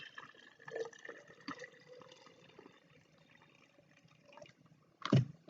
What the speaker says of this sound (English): So first we're going to go ahead and pour some of the warm water into here,